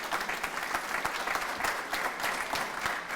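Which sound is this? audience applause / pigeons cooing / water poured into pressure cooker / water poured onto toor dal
audience applause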